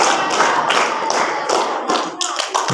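An audience in a school hall during a 1445 H New Year lecture at SMP Negeri 2 Kuantan Hilir claps in rhythm on command, a dense run of sharp hand claps filling the room, fairly loud and close.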